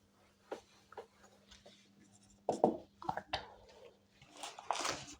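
Pen or chalk writing out a maths problem on indices, a quiet series of short scratchy strokes in uneven bursts, growing busier toward the end.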